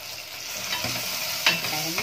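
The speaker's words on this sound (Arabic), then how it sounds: "وبنجيب برده كده نديهم تشويحه في الفريك" Freekeh sautéing in a pan with bay leaves and cardamom, a steady soft sizzle with stirring scrapes running throughout, close and moderately loud, with no talking.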